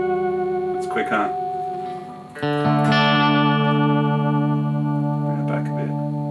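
An electric guitar played through Lance Amplification Aerial and Bondi Effects pedals rings out in sustained, modulated chords with a shimmering chorus-like wobble, loud and close, while someone talks briefly over it.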